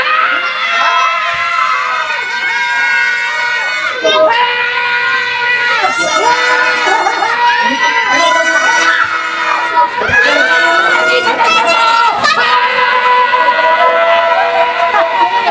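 A crowd of children shouting and yelling loudly, many voices overlapping continuously with some calls rising above the din.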